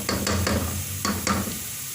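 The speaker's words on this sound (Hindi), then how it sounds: "प्याज को गोल्डन ब्राउन होने तक फ्राई करेंगे।" Onions fry in a pan until golden brown for a mutton and bottle gourd curry, with a soft steady sizzle and several scraping stirs of a spoon against the pan, close up, with no voice.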